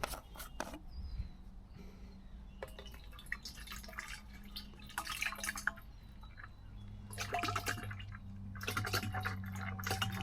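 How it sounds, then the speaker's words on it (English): Wood sealer, mixed 50-50, trickles and drips into a container in irregular bursts, with quiet handling noises between pours and a low hum underneath. "We're going to pour some of this in."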